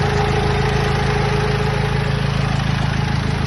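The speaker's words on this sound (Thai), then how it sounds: "ผมจะสตาร์ทนะครับมาเบิ้งกันว่าติดนะครับ" A small engine runs at a steady idle, a loud, even low throbbing rumble with a constant mechanical hum that holds unchanged throughout, with no voices.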